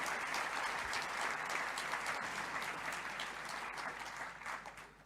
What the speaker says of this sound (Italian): fatevi un applauso perché siete veramente straordinari